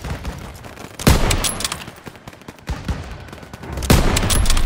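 Heavy battlefield gunfire in a Call of Duty WWII firefight, dense rattling bursts and sharp loud shots repeating close by in waves, with no voices over it.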